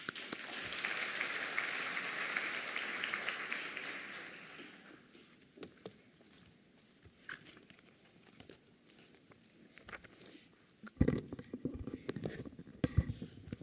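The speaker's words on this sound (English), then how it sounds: "Can we have a round of applause, please?" A short burst of applause from a small audience at a nursing school convocation fades after a few seconds, followed by quiet shuffling and footsteps.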